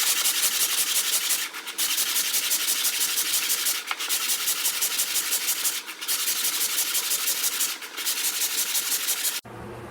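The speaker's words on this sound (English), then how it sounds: "So about every 10 strokes, I turn it 90 degrees until we've got all those saw marks out." Hand sanding a wooden memory box piece: steady, rapid rhythmic scratching strokes, close and loud, with short pauses about every two seconds as the piece is turned.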